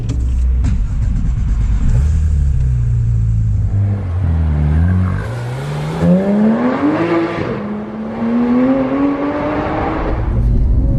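Porsche 911 GT3 engine on the road, a loud continuous drone that climbs steadily in pitch as the car accelerates, with a brief lull and a gear change partway through before it pulls up again.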